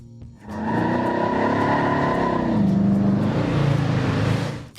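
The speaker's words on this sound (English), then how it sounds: "Number 14, 1966 Dodge Charger 426 HEMI" A 1966 Dodge Charger with a 426 HEMI V8 revs loud and close, its deep throaty roar rising and holding for several seconds, then dropping to a rougher rumble before cutting off.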